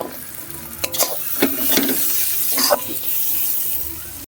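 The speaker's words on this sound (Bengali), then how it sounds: "টমেটো কুচিগুলো দিয়ে দিব তেলে ভালো করে কষিয়ে নেব" Chopped tomatoes and green chillies sautéing in hot oil in a village kitchen pan, a steady low sizzle broken by a few scraping stirs of a spatula, close and moderately loud, no voices.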